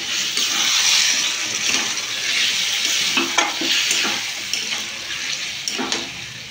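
Muri ghonto made with gobindobhog rice is stirred in a pan with a little water. A close, steady sizzle and bubbling runs throughout, broken by the scrape of spoon strokes.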